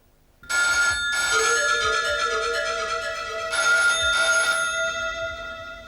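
A telephone rings in bursts, an electronic ringtone with steady tonal pulses starting abruptly and repeating over several seconds, loud and close with no talk over it.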